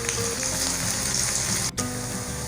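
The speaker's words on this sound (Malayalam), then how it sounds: "കടുക് പൊട്ടിക്കഴിഞ്ഞാൽ ചെറിയുള്ളി ഇട്ട് കൊടുക്കാം." Small shallots dropped into hot oil with popped mustard and fenugreek seeds for a Kerala prawn curry crackle and sizzle in a dense, continuous hiss, close up, with a momentary dip before resuming.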